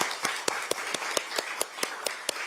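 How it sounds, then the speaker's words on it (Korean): Sharp, evenly spaced hand claps, about ten in quick succession, crisp and fairly close, like a small group clapping in time at a political party meeting. "박수 한번 쳐주시기 바랍니다"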